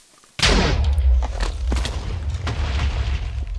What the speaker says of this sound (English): As you can see, the cannon's working.